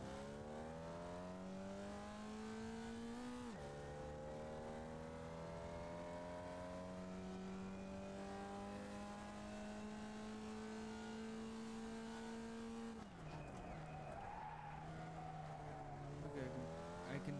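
Race car engine in the iRacing sim, a steady loud drone with sustained revving, two downshifts with dips in pitch, then a climb back up, continuous and close throughout.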